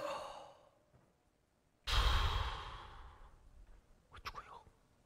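A voice imitates a dying person's final gasping breath: after a faint trailing murmur and a pause, one loud, harsh rush of breath fades out, followed by a few soft breathy catches.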